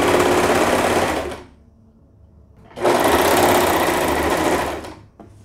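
Sewing machine stitching teen pajama pants, two loud close runs of rapid whirring separated by a quiet pause of about a second and a half.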